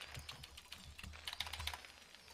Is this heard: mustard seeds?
no